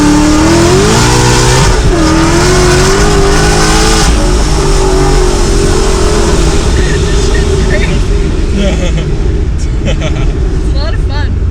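A 1100 hp Ford Mustang accelerates hard in second gear, its loud engine climbing steadily in pitch with a harsh, rough roar close inside the cabin, while people talk over the noise.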